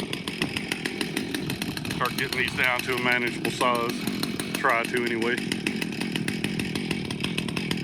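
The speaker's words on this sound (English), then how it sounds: "got the chainsaw warming up here." A chainsaw drones steadily throughout, close and loud, while someone speaks briefly over it.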